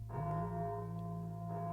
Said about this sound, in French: Le son de la grande cloche en bronze accrochée à l'entrée du temple retentit.